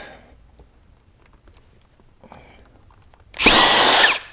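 A power drill whirs loudly for about a second near the end, grinding through plastic after quiet handling noises.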